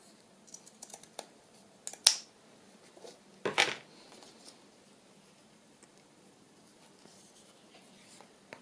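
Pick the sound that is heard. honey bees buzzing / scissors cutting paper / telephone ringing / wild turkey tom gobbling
scissors cutting paper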